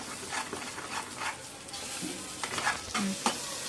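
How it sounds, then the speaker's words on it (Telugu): Egg being stirred into a ridge gourd curry in a pan, with soft scraping stirs and a low sizzle continuing throughout, a few sharper utensil knocks near the end. "అప్పుడు ఈ ఎగ్ని ఈ విధంగా కలుపుకోవాలి."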